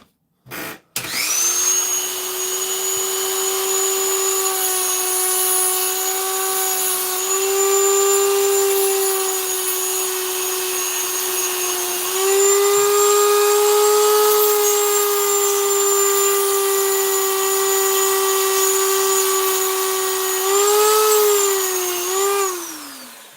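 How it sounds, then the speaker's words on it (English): A power drill bores into a metal surface to prepare it for spot welding, with a sustained steady whine that runs for over twenty seconds and shifts pitch slightly under load, loud and close. "So we're going to do a bit of drilling first. Prepare the surface."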